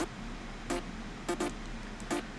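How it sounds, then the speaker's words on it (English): Short, buzzy percussive synth hits with a sawtooth edge, landing in a loose rhythm of single and double strikes over a faint hiss. "Basically another kind of percussive synth"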